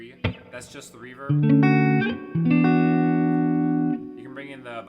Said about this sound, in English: That's just the reverb.